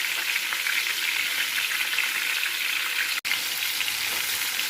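Parshe fish fry in hot oil with a dense, steady, close sizzle and crackle, continuous throughout apart from one brief dropout.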